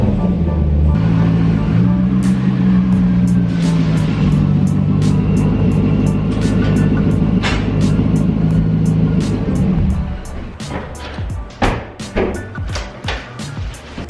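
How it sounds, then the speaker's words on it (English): A Corvette's engine rumbles steadily and close by as the car is eased out of a garage, then drops to a quieter idle broken by a few knocks. "Just put the Corvette a little bit out of the garage"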